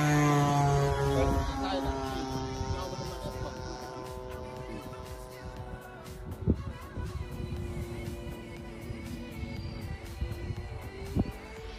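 A small remote control airplane flies overhead, its motor whine shifting in pitch as it climbs and banks away, with voices talking over the buzzing propeller.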